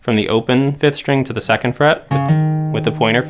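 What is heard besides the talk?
No everyday noise stands out behind the speech.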